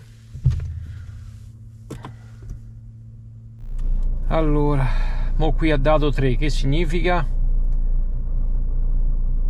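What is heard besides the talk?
Nissan car engine starting and running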